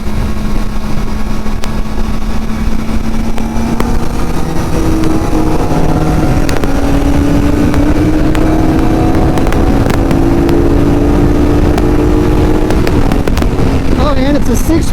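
A Kawasaki ZX4RR motorcycle on a freeway, its engine whining and rising through the gears under heavy, constant wind roar close to the rider for the whole stretch, with a voice heard faintly at times.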